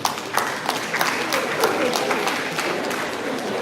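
Students in a University of Ilorin Islamic Law department gathering clap for themselves, a moderate burst of room applause with scattered individual claps.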